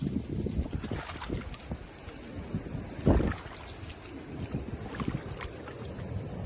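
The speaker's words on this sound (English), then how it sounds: "Boy, it's windy this morning." Gusty wind buffets the microphone in low rumbling surges, with a stronger blast around the middle, over faint water and boat noise outdoors.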